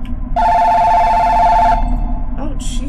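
A flip phone in the horror game The Bathhouse rings with a loud, steady electronic trill for over a second, then cuts off as a voice begins speaking over a low background hum.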